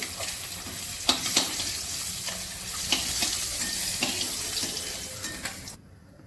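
Black cumin seeds sizzling in hot oil for a tempering, while eggplant and hilsa fish are being cooked. A steady close frying hiss runs throughout with scattered crackles and clinks, then stops abruptly near the end.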